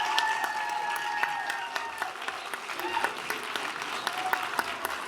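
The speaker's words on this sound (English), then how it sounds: "All right, now we can applaud and cheer." A county board of supervisors meeting room fills with steady applause and some cheering, moderately distant and continuous, with no talk over it.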